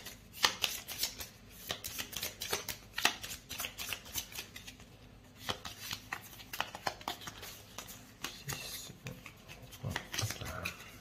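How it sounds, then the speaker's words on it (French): A deck of Aeon's End board game cards is riffled and shuffled up close in a busy series of papery flicks and rustles over roughly eleven seconds, with faint background murmuring. "Et on remélange le deck."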